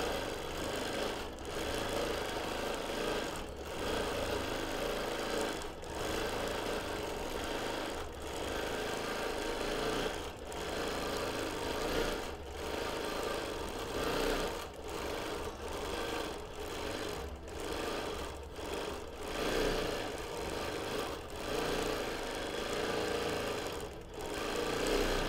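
A sewing machine stitching a baby quilt with minky backing runs in steady fast bursts, motor whirring and needle clattering, pausing briefly between runs across the whole stretch, with no talking.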